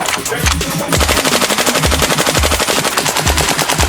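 An airsoft AK rifle fires a rapid, sustained burst of full-auto shots, loud and close, with a busy crowd ambience underneath at a trade show.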